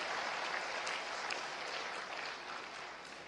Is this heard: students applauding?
yes